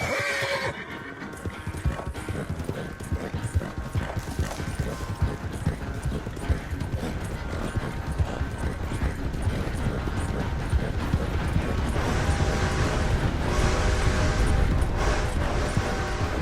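Horse hooves galloping in Red Dead Redemption 2, a steady fast clip-clop running throughout with a horse neighing and game music underneath, loud and close.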